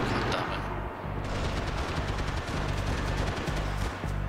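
Gunfire rattles nonstop in Max Payne 3 multiplayer, with dense rapid bursts of loud shots and heavy low booms filling the whole stretch.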